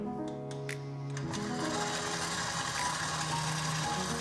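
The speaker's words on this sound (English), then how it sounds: "So we're going to pop this into our stand mixer." Stand mixer starting to beat egg whites for a traditional pavlova meringue, a steady whirring motor hum with a shifting tone as it spins up, continuous and moderately quiet.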